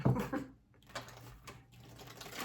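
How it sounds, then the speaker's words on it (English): Tarot cards shuffled by hand, a short run of faint papery flicks and soft clicks with quiet gaps between them, no voice over it. "Let's get another shuffle in here."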